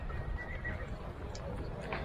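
Horses at a horse market in Kyrgyzstan, with a neigh and hoof clatter amid a busy outdoor crowd murmur and people talking.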